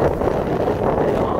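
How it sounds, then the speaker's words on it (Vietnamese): Strong cold wind buffeting a microphone outdoors in Vinh Long during a rainy spell, a steady broadband roar that fills the whole stretch without pause, with no voices in it. "Gió quá lạnh quá."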